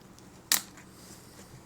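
A single sharp snap from the retention strap of a universal Walmart pistol holster, close and crisp, alone in a quiet room.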